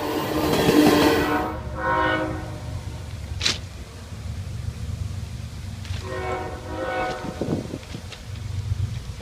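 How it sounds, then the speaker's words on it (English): Train passing close by, with loud horn blasts and rumbling, clattering railcars rolling past, the horn sounding again as the wagons continue rattling by. "The train is coming."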